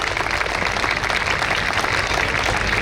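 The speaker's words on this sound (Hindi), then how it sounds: "एक बार जोरदार तालियां DFC के इन प्राइड के लिए।" An audience at an alumni talk show claps loudly and steadily in dense, continuous applause. No one speaks over it.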